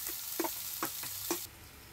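Chopped onion fries in hot oil in a village kitchen pan, a soft continuous sizzle with three or four quick stirring scrapes, heard close and quiet, with no voices.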